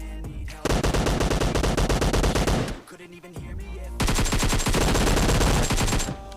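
Gunfire rattles in the mobile battle-royale game PUBG Mobile. Two long, loud bursts of rapid shots come close up, with a short lull between them.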